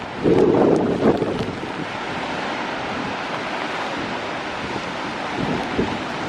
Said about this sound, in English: Have you ever seen such a stormy sea? It's breaking over the island